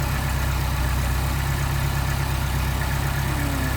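A Mercedes 190SL engine with Solex carburetors idles in a steady, even low rumble, close and continuous, with no voices.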